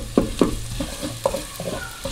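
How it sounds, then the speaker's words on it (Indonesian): Garlic sautéing in a pan gives a close sizzle with a few sharp stirring scrapes and taps in quick succession. "Kita tumis. Tuh. Bawang putih masuk."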